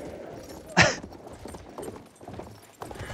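Horse hooves gallop in the video game Battlefield 1, a steady clip-clop under game noise, with one loud sharp impact early on.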